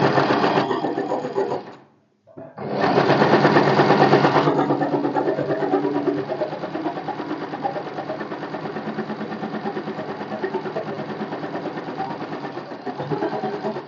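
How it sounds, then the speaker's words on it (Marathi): A sewing machine runs steadily, stitching a straight line down the lining of a four-tuck blouse; a brief pause near two seconds breaks the loud, even motor whir before it resumes and continues alone. "त्यानंतर बरोबर ह्या लाईन वरून खाली स्टिच करत यायचं"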